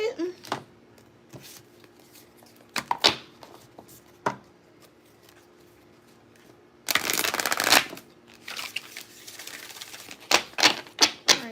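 Tarot-style surrender cards being shuffled for a Capricorn reading, with scattered sharp riffling bursts and a long dense shuffle in the middle, close and fairly loud, alternating with quiet gaps.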